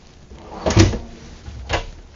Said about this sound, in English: The nice pull-out wastebasket.